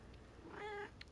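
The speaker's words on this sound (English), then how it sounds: "Sorry if you can hear my cat." A house cat gives one brief, soft meow, quiet and a little distant, against a low background.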